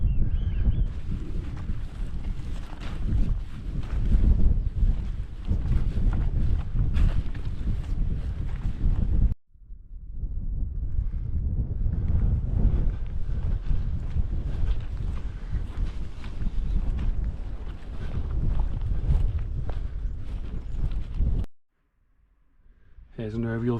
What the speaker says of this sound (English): That wind isn't half picked up.